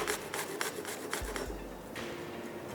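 Garlic rasped against a grater for burgers, a soft close scraping in quick repeated strokes, fairly quiet, with no talking.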